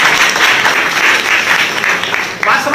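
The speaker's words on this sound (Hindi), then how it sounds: "एक बार जोरदार ताली बजा दो।" A live audience claps loudly and steadily at a seminar-style talk, a dense sustained burst of applause with no speech over it.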